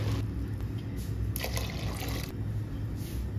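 Two glasses of milk pour into a pot of cooked chana dal for halwa, a continuous splashing liquid pour over steady kitchen background noise.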